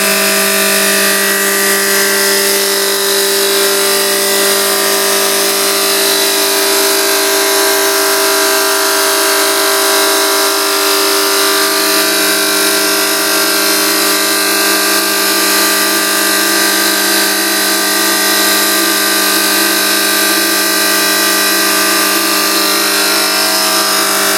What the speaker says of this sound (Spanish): Corresponde a 1500 RPM del motor y a 3000 RPM del árbol de levas.